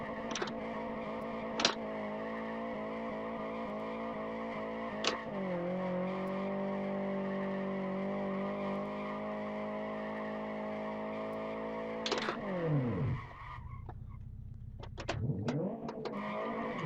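A Tofaş car engine drones steadily while driving, with a sharp shift in pitch partway through and a falling rev as it slows near the end, accompanied by a few brief clicks and knocks, close and loud without talk.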